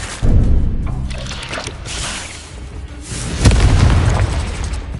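Confringo spell blasts in Hogwarts Legacy, two heavy booming explosions with rumbling low-end bursts, the first near the start and a second sharper hit midway, fading into debris-like crackle.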